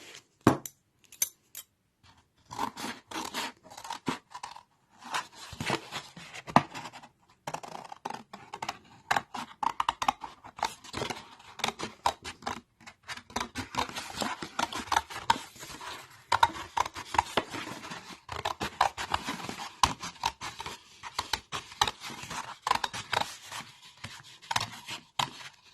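Scissors snip through fabric while a no-sew cloth face mask is cut out, a dense run of quick, close, crisp cutting clicks continuing almost nonstop with brief pauses.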